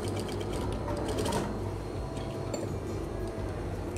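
A sewing machine stitching fabric for a Muslimah dress runs in a steady, close, rapid mechanical patter with a brief louder clatter partway through, and no voices over it.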